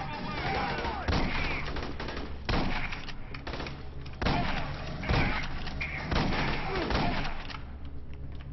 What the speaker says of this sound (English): The shotgun's pretty awesome for a pump.